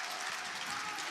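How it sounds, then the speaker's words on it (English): A crowd at a card game championship final cheers and applauds, a dense, steady wash of clapping and noise lasting about a second. "The crowd goes wild."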